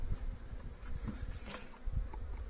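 A swarm of honeybees leaving a hive buzzes steadily at close range, a quiet continuous drone with faint wind and no talk.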